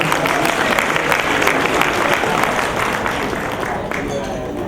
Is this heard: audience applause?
yes